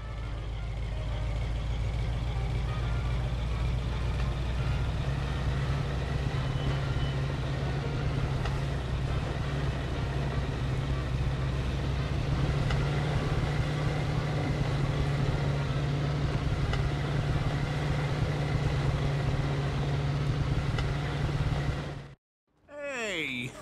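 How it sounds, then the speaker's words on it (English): A car in the Mafia 2 video game drives through the gate of a junkyard, its engine a steady, loud low rumble that continues unbroken for over twenty seconds before cutting out abruptly near the end. "Just drive through the gate."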